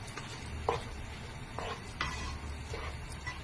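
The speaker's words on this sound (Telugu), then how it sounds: "ఆనియన్స్ కూడా వెంటనే వేసేస్తున్నానండి. ఈ ఆనియన్స్ మనం బాగా కొంచెం ఉడకనిస్తామండి." Chopped onions cooking in a pan on the stove, with a steady soft sizzle and several scraping stirs spaced about a second apart, fairly quiet and without talk.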